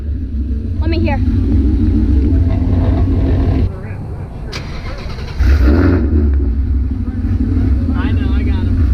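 The engine of a drag car rumbles loud and close as the car is bumped forward, with a short dip in level partway through. Voices talk over the running engine.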